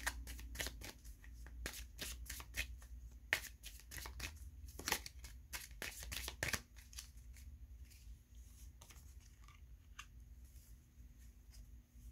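Tarot cards shuffled by hand in a series of quick riffling bursts, close and crisp, slowing to a few lighter taps toward the end.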